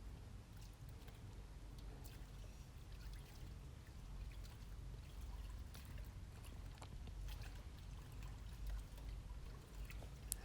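Horse intestines are rinsed under running water, giving a faint, steady pouring trickle over a low background rumble, with no one talking.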